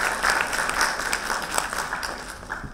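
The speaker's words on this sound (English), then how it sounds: "I think it requires a great amount of applause." Audience applause at an IIT chair launch event, a steady crowd clapping in a hall that gradually thins out over a few seconds.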